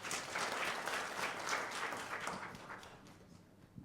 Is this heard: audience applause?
yes